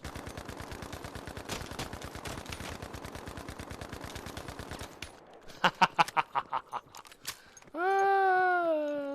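Rapid automatic gunfire from a first-person shooter game with a sniper, a dense burst of steady shots followed by a few separate louder pops and a sustained whining tone at the end.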